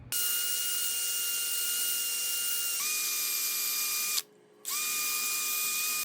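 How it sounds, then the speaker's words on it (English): A wire brush scrubs Delta kitchen faucet cartridge parts, giving a steady, loud mechanical whine with a sustained tone that dips briefly near the four-second mark and then resumes. "We got to go with the wire brush"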